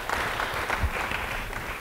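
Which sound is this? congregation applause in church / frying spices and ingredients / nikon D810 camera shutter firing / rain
congregation applause in church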